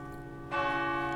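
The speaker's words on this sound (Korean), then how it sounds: "그때 교회의 큰 시계가 정오를 알렸습니다." A large church clock bell strikes noon with one resonant clang that rings on with a rich, sustained hum after the low background tone.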